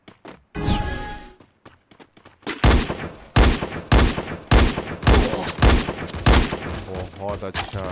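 Rapid gunfire from an online shooter video game: a dense run of sharp, loud shots in quick succession, some bursts overlapping, with game sounds between and no talk.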